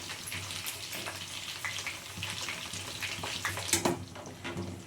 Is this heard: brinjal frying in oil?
yes